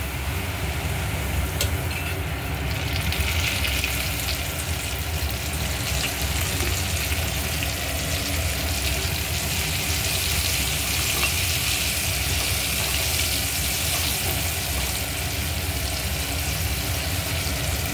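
Corn kernels fry in oil over a medium-low flame, a steady dense sizzle and hiss filling the whole stretch without voices.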